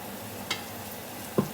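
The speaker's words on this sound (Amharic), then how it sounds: "ለቀዩ ዘይት ይሄ እየተጠበሰልን ነው።" Oil sizzles steadily in a pan as the base for a red Ethiopian fasting stew fries, a close, even hiss broken by two brief clinks of stirring.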